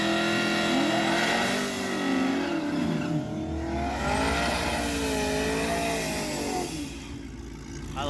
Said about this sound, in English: Racing a really cool Pro Charge pick-em-up truck